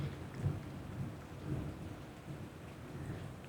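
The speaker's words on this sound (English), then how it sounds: "I don't know if you guys can hear that Texas thunder, but it is rolling over here" Distant Texas thunder rolling over an outdoor disc golf course, a low continuous rumble swelling and fading in slow waves with no voices.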